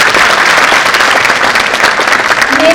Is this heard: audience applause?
yes